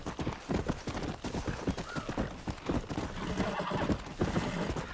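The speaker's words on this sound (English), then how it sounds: "Bom, vamos lá, vamos cavalgar" A horse gallops in the Red Dead Redemption video game on PS5, rapid rhythmic hoofbeats drumming continuously and loudly up close, with a brief whinny among the steady pounding.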